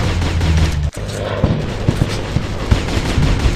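Rapid bursts of gunfire from a shooting video game, with repeated sharp shots crackling close and loud over a constant low rumble of game noise, with no talk.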